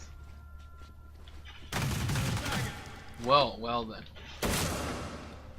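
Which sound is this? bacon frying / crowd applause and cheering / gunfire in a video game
gunfire in a video game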